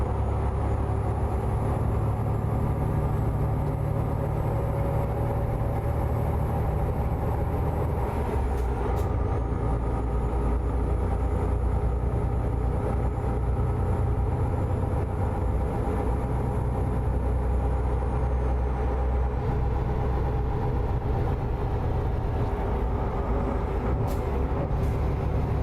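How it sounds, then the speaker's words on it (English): Steady low drone of an MX13 truck engine running at 510 horsepower in American Truck Simulator, a continuous heavy rumble with even loudness throughout and no talking. "We're running the MX13 at 510 horsepower."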